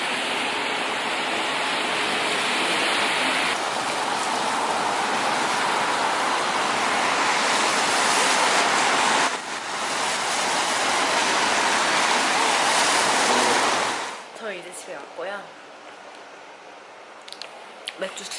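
Rain falls steadily on the streets of Chicago, a dense, loud wash of patter and splashing that runs for most of the time before dropping away to quieter city sounds and scattered knocks.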